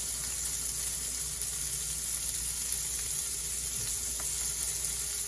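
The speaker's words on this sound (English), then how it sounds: "let's go ahead and throw these onions on. Try to get them in some of the bacon fat." Onions sizzle and crackle in hot bacon fat on a cooking surface, a constant bright hiss with small pops, close and steady throughout.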